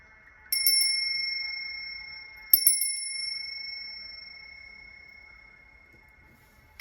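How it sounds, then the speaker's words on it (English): A bell rung twice, each strike giving a bright, clear metallic ding that rings on and slowly fades into quiet, the second strike about two seconds after the first. "So I'm going to ring the bell"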